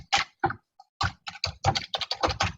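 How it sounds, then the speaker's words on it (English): Someone types an email address on a computer keyboard, a close, clear run of quick key clicks in uneven bursts with brief pauses, no talking over it. "typing in here my email"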